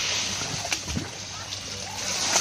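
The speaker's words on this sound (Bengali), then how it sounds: "কড়া গরম হয়ে গেছে, কড়ার মধ্যে তেল দিয়ে দেবো।" Oil is poured into a hot karai before frying fish. It makes a continuous bright hiss and splattering sizzle with a few small pops, and a voice can be heard speaking faintly underneath.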